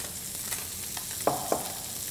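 Salmon sizzles steadily in a hot pan, a soft, even frying hiss with a couple of faint pops and crackles near the end.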